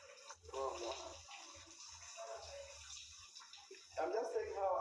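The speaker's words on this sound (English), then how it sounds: "I'm just saying how I love the shower." Shower water runs steadily with a hissing, splashing wash, while a person talks over it intermittently, close and clear.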